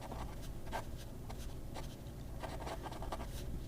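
AdMoc M400 fountain pen with a steel flex nib writing on paper, close and quiet, with short scratchy strokes coming in irregular bursts and nothing else heard.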